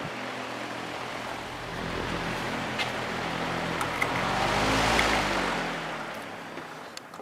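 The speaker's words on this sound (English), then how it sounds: "quietest high velocity fan I own. Has a very nice low speed now. Still blows plenty of air too." Patton 18-inch high velocity fan, model U2-0018, running at low speed with a steady broadband whoosh of moving air and a low motor hum, swelling slightly louder midway before easing back.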